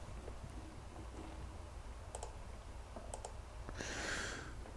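Computer keyboard keys tapped while entering frequency values during a physics lab oscilloscope session, a few sharp scattered clicks at close range over a quiet room hum, with a louder rustle near the end.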